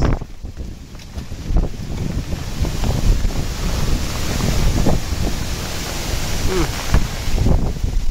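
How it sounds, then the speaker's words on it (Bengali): Storm wind gusts outdoors beside a flooded pond during rain and lightning. It roars and buffets the microphone as loud, rumbling blasts that rise and fall throughout, with no clear voices. "অনেক ঝড় তুফান চলতেছে"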